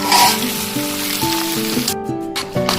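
Onions and whole garlic cloves frying with duck meat in a pan give off a steady bright sizzle close up, with a tonal music track playing over it.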